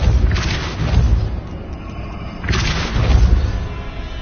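Depulso spell cast repeatedly in the video game Hogwarts Legacy: two heavy booming blasts with rumbling low ends, the first around half a second in and the second about two seconds later, each trailing into a crackling decay.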